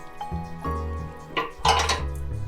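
A brined turkey is lifted into a roasting pan with a series of close metallic clanks and knocks of the pan, several distinct bumps over a couple of seconds, with the last ones louder.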